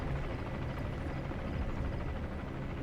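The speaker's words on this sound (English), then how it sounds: "Helicopter is angry." Helicopter in the video game Metal Gear Solid V, a steady, continuous rotor drone at low level, unbroken by talk.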